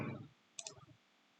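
A single quick computer mouse click, short and crisp, in a quiet room with nothing else around it.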